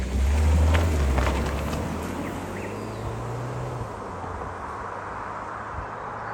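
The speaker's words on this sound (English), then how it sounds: "driving the all-new Kia Seltos GT line just as it starts to rain" A Kia Seltos GT Line car driving as rain begins, a low engine hum with rumbling road noise that starts loud and eases slightly, with soft hiss and faint ticking over it.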